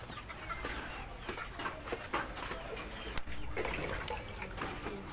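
Chickens cluck softly in the distance over a steady outdoor hiss, with occasional faint knocks and splashes as water is poured into their drinker.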